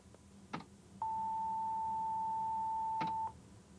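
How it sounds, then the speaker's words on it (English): A steady pure sine-wave tone, pitched higher than a 440 Hz concert A, holds unbroken for about two seconds, framed by brief clicks before and after. "I have underneath it a sine wave at a different pitch."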